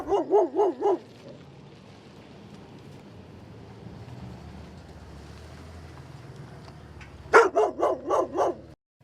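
Dogs bark at door-to-door campaign canvassers for the Grijalva campaign: a loud, close burst of four or five rhythmic barks opens, then a low ambient hum, then another sharp run of barks near the end.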